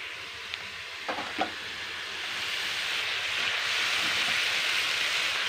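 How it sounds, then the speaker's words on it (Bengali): Chopped khulekhara greens frying in a pan with potatoes and spices, a steady loud sizzle that swells and thickens after a few soft clinks of a utensil near the start. "এবার এই যে কেটে রাখা শাকগুলো এবারে দিয়ে দিই"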